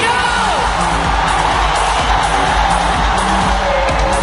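A big indoor crowd at a Premier Futsal match roars and cheers continuously, loud and dense, with whoops and yells in the mix.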